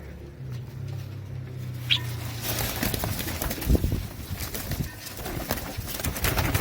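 Royal Teddy pigeons kept in a loft make soft shuffling and fluttering noises with occasional faint coos, over a low hum and scattered rustling.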